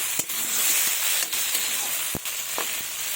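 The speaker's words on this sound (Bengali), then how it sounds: "আমি মশলার মধ্যে শুকনো লঙ্কা বাটা, আদা বাটা, জিরে বাটা বেটে নিয়েছি। তো এবার আমি মশলাটা দিয়ে দেবো।" A ground paste of dried red chili, ginger and cumin hits hot oil with fried potato, eggplant and tomato, giving a dense, loud, continuous hiss with a few sharp clicks and pops.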